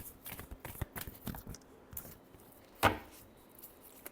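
Tarot cards being shuffled by hand, a string of quiet crisp riffling flicks with one sharper slap of cards near the end, close and soft, with no talking.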